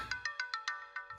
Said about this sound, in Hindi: आंटी अर्जेंट फोन है, प्लीज।